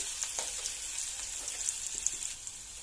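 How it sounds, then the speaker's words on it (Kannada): Onions fry and are stirred in a pan for cabbage palya, a steady faint sizzle with soft scattered crackles and light stirring scrapes, no voices. "ಆಮೇಲೆ ಸ್ವಲ್ಪ ಈರುಳ್ಳಿ ಹಾಕಬೇಕು. ಅದು ಚೆನ್ನಾಗಿ ಮಿಕ್ಸ್ ಆಗಬೇಕು."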